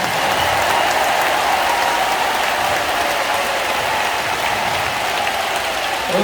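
Steady, dense clapping from a church congregation at a large Korean church rally for free unification, a continuous broad wash of applause lasting throughout without a break.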